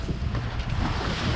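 Steady wind roaring across a sailing boat beating north into the wind with its staysail set, a constant broadband rush with low buffeting and water noise, loud and unbroken with no voices.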